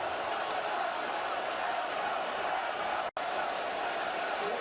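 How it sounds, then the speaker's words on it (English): Dense stadium crowd roar at a Texas vs Texas A&M college football game, a steady broadband wall of voices with chanting folded in, loud and continuous apart from a very brief drop near the end. "Crowd chanting Elko."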